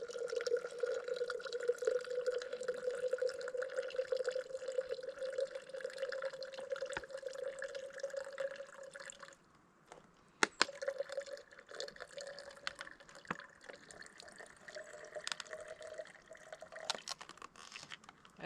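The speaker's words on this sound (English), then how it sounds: "all right, so filter water." Filtered water from a backpacking press filter drips and trickles steadily beside a lake trail, a continuous close, moderately loud patter that briefly stops near the middle before resuming.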